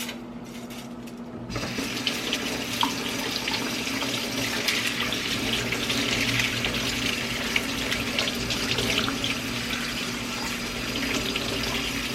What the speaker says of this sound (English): I am going to run my bamboo skewers under some cold water.